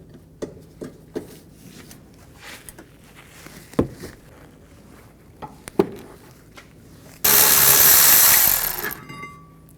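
Kia Sorento rear brake caliper bracket bolts being removed with a 14mm socket, a loud continuous power-tool whir lasting about two seconds, preceded by scattered metallic clicks and knocks from handling.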